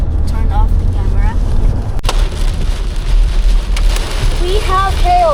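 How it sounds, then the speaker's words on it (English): Hail drums on a car during a tornado warning near Chicago, a dense loud rattle of hard impacts on the body and glass, with a sharp crack near the middle and faint squeaky tones over the steady pelting. "We have hail. If you hear those noises, it's hail."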